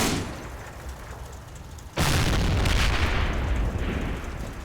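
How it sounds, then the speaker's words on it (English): Assault gun firing its 105mm HE cannon into a forest in Combat Mission: Battle for Normandy, a single sudden heavy boom cutting through quiet ambience, then a sustained rumbling roar slowly fading. "Gonna open fire into the forest there with the 105mm HE cannon."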